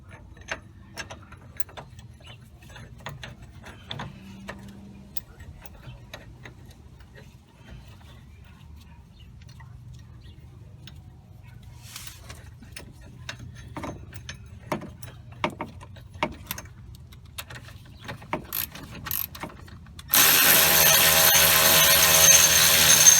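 Sparse, irregular metallic clicks from hand tools work on the sway bar bushing bolts of a BMW 535i, fairly faint at first. A loud, dense burst of noise cuts in near the end.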